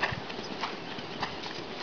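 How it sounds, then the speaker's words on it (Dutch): Horse cantering during a riding lesson, a steady three-beat rhythm of hoofbeats at moderate distance, fairly faint and alone without talk. "Laat het paard galopperen."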